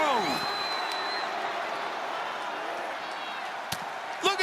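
An arena crowd roars in a WWE 2K24 wrestling match between the Undertaker and the Tribal Chief, a steady wash of cheering under a commentator's voice, with a couple of sharp impact thuds near the end.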